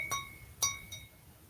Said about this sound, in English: comes in a glass bottle